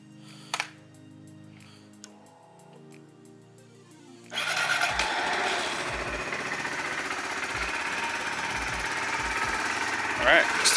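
A Kawasaki Z125 Pro motorcycle engine cranks and fires up after an oil change, settling into a steady, close, rattly idle that continues to the end after a few quieter clicks and a faint voice.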